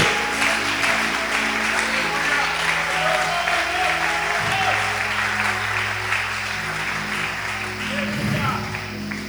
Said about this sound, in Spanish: Dele ese aplauso al Señor en esta noche.